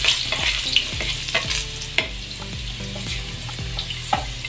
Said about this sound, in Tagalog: Inisan natin yung bawang,